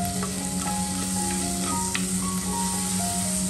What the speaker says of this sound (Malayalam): ഇപ്പോൾ ദാ ഈ ഒരു സവാളയും ക്യാരറ്റും മഷ്റൂമും നന്നായിട്ട് എണ്ണയിൽ വാടി വന്നിട്ടുണ്ട്